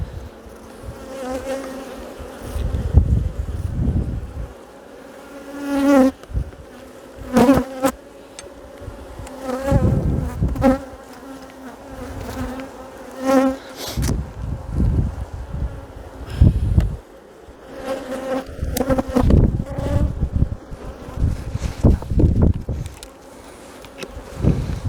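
Honey bees buzz around an open hive during a weekly inspection on a blustery day, giving a continuous droning hum with louder swells as bees pass close to the microphone, along with occasional wind gusts and handling noises.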